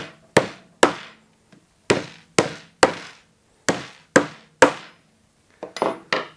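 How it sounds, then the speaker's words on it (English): Hammer driving nails into a wooden nesting box: about a dozen sharp, close wooden knocks in uneven pairs and runs, with brief quiet between strikes. "so we hammer those nails home"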